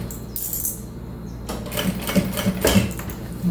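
A sewing machine stitches a small fabric zip pouch in short bursts, starting with quick rattling runs and then a denser, louder run of stitches near the end.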